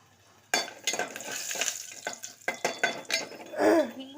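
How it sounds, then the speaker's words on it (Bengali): Asafoetida, whole garam masala and ginger hit hot oil with a sudden sizzle that keeps crackling, broken up by several sharp spoon-against-pan knocks and stirring scrapes, close and fairly loud. "হিং, গোটা গরম মশলা আর আদা একটু ফোড়ন দিয়ে দিলাম"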